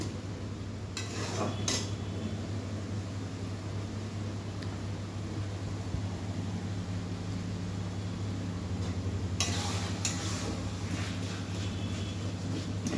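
Tomatoes in a wok being pressed into a paste with a metal spatula, steady soft frying hiss with occasional scraping clinks of the spatula against the pan, no speech.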